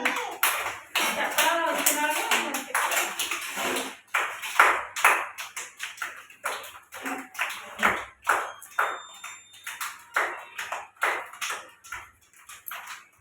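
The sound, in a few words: children clapping hands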